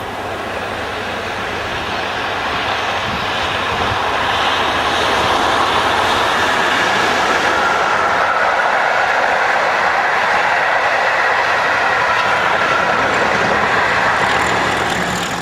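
A railtour charter train hauled by four locomotives, heard as a loud, steady mechanical roar and rumble that builds slightly and holds for the whole stretch, with no talking.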